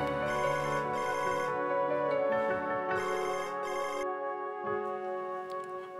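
A telephone rings in bursts of electronic ringtone, a repeating patterned melody with short pauses between rings, clear and fairly close with no talk over it.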